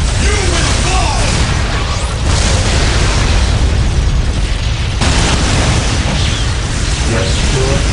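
Constant battle noise from the real-time strategy game Warhammer 40000: Dawn of War - Soul Storm, with Space Marines taking heavy fire. Dense booming explosions and rumble fill the whole stretch, with faint voices underneath.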